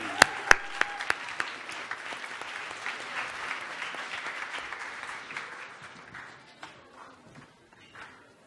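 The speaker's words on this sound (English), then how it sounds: "a nice round of applause for Prep Academy" An audience applauds a student team at a school challenge event, opening with a few sharp nearby claps before settling into steady clapping that thins out toward the end.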